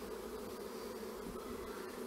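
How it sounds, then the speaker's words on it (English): Dense, continuous buzzing of many honey bees in a hive, steady and close, with no talking. "the bees have moved their nest up into the top box."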